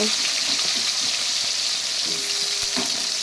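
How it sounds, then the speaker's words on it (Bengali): Raw green banana and potato pieces fry in oil with cumin seeds in a wok, making a continuous, loud, close-up sizzle with occasional light stirring scrapes throughout. "এরপরে আমি কাঁচকলা আর আলুটাকে ভালো করে ভেজে নেব"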